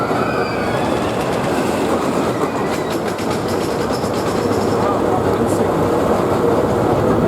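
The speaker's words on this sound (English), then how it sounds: "We're now going to go and take a ride on the Pleasure Beach Express" The Pleasure Beach Express, an amusement park train ride at Blackpool Pleasure Beach, rumbles steadily with clattering wheels and faint rail squeal in a continuous, loud wash of noise.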